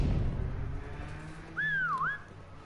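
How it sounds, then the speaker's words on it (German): Referee whistle in the Call of Duty WWII video game, a single rising-and-falling two-note blow rising clearly above a low rumbling background late in the moment. "In 14 Sekunden wird nochmal pfiffen"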